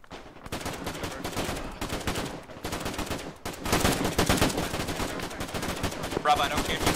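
Sustained covering gunfire in a combined-arms shooter game: continuous rattling automatic bursts and overlapping shots, loud and dense, with a short lull partway through.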